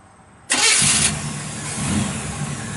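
A 1966 Chevrolet Impala with a 350 engine, ceramic coated headers and dual Flowmaster exhaust cranks and fires up abruptly, settling into a loud, rumbling idle with a brief rise in revs.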